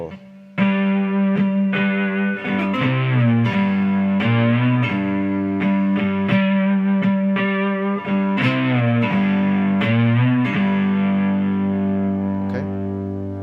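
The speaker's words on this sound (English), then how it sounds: "I played that with distortion at the beginning." Electric guitar is strummed in a blues riff through heavy distortion, a loud sustained chugging pattern with accented chord changes, played alone.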